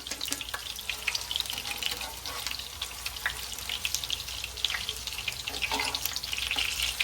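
Tuna kebab mixture frying in a pan on the stove, giving a steady, close hiss and crackle of hot oil that runs without break and with no talk.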